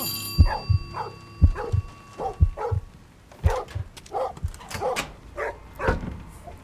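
Dog barking in the horror video game Метель (Metel), a series of sharp, repeated barks in irregular bursts with a few whimpering yips, close and fairly loud over a faint steady game hum.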